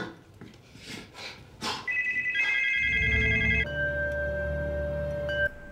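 A telephone bell rings loudly and insistently after a brief rustle, with a low tone sustaining underneath.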